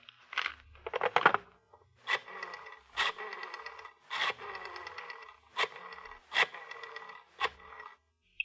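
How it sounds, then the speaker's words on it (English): Pages of a telephone book flipped in a radio detective drama, heard as about ten separate papery rustling swishes in an uneven rhythm, close and clear with no talking. "The sound of the flipping pages."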